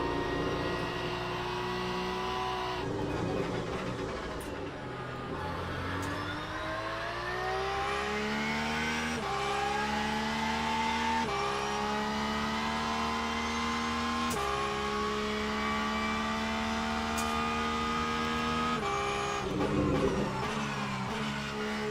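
Race car engines in Le Mans Ultimate, including a Porsche, revving and shifting through gears in rising sweeps, a continuous close drone with repeated climbs and brief drops over twenty seconds.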